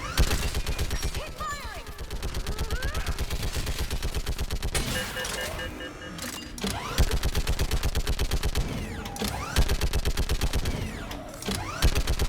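Heavy battlefield gunfire from Mass Effect 3, with rapid automatic bursts rattling almost continuously and loudly, overlapping other weapons and combat noise, while voices shout faintly underneath.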